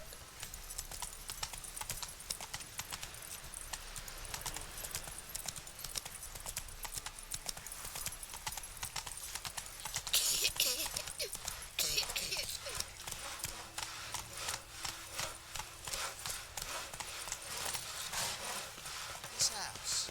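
Roach, the horse in The Witcher 3: Wild Hunt, gallops with steady, continuous clip-clopping hooves throughout, under game ambience and occasional voices.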